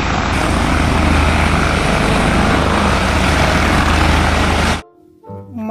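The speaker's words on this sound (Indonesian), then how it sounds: "ada helikopter." Loud, steady helicopter rotor and engine roar close by, filling the sound for several seconds before cutting off abruptly near the end.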